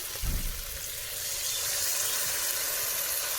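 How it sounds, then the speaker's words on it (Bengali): Water poured onto fried potatoes and pointed gourd in a hot pan, a low splash at first, then a steady hiss and sizzle that swells and holds, close by. "আর এখন জল দিয়ে দেব"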